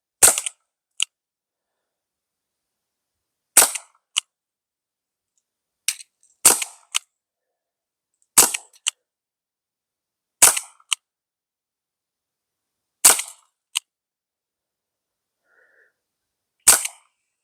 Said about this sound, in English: CO2 powered BB revolver, the Rhode from Umarex